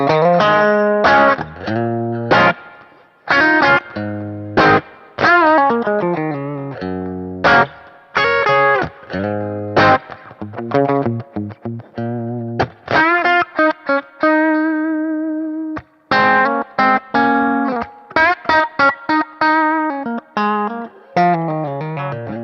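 A Fender Stratocaster electric guitar through a 1966 Fender Dual Showman amp on a clean tone, playing short chords and single notes with bright harmonics and pauses, loud and close with no voices.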